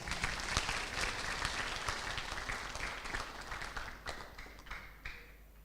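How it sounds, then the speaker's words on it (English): Audience applause at a mental health seminar, a steady wash of many hands clapping close and full, thinning slightly toward the end. "Give applause, please."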